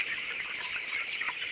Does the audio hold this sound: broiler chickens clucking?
yes